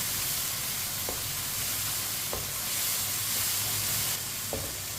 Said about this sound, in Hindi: ऐसे ही चम्मच चलाते हुए पकाना है इसे